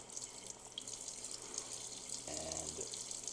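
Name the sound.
water running from a Moen faucet without aerator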